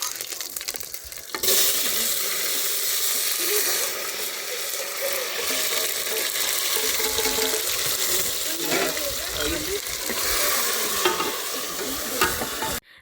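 Steady, loud sizzling of cumin seeds tempering in hot oil in a pan, a continuous crackling hiss with a few clinks, close by and without talk.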